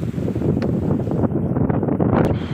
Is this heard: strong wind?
yes